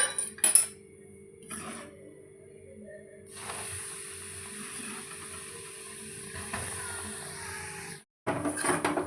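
Wheat flour tipped into hot desi ghee in a pan for aate ka halwa, then stirred: a steady sizzling hiss fills the pot, broken by scraping and clinking of a spoon against metal, with a sharp clatter at the end.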